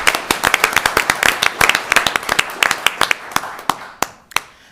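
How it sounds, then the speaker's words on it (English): An audience claps at a town Board of Commissioners meeting: a burst of sharp, close applause with distinct individual claps that thins out toward the end. "So we're going to clap."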